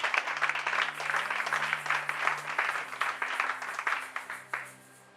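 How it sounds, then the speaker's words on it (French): A church congregation breaks into loud, sustained applause and clapping, a dense crowd sound that holds steady for several seconds before tapering off abruptly near the end. "Acclamons plus fort pour la parole."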